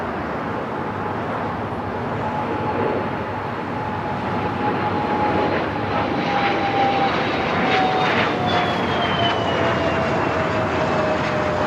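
A Singapore Airlines jet takes off from runway 24 left at LAX, its engines a loud, steady roar with a slowly falling whine that holds for the whole stretch.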